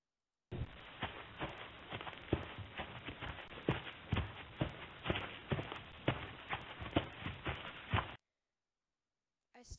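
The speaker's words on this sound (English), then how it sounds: "Then I heard something weird. Sounded a bit like footsteps." Footsteps sound effect in a Five Nights at Freddy's 2 fan creepypasta horror story: a steady run of soft, repeated thudding steps lasting about eight seconds, fairly close and heard alone before cutting to silence.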